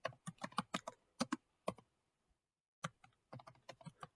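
Computer keyboard typing HTML code in Notepad: quick bursts of close, crisp keystrokes in two runs separated by a pause of about a second, with no talking.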